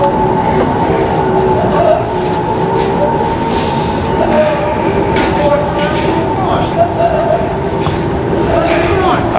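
Toronto streetcar running on its rails, a loud continuous rumble with squealing wheels and rattling throughout, heard from on board.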